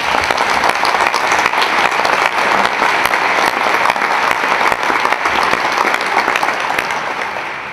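Audience at a Hall of Fame induction ceremony applauds, a loud, sustained dense roar of clapping from a large crowd that holds steady for several seconds before easing slightly at the end.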